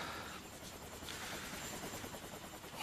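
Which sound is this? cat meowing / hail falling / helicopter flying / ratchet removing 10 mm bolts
helicopter flying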